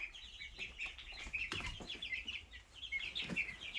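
Young chickens kept in a tote cluck and peep softly in a quick, irregular chatter, close by and fairly quiet, with a couple of louder bumps partway through.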